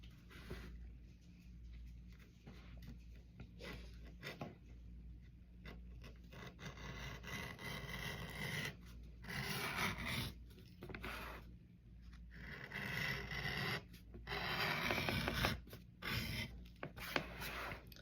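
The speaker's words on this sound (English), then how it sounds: "since this is probably going to be a wristlet, I'm also beveling the inside, again, just to take the soft edge off" Edge beveler shaving along the edge of a leather belt scrap for a wristlet: a soft, continuous rasping scrape in uneven strokes, close and fairly quiet, with brief pauses between passes and no talk.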